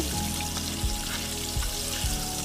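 Cinnamon, cardamom, cloves, bay leaf and a few garlic pieces fry in hot oil for a mutton kosha, giving a close, constant sizzle punctuated by a few soft low knocks.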